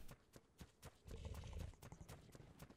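Horses trot in the video game Ark: Survival Evolved, with a steady run of clip-clop hoofbeats that is loud and close and plays alone without talk.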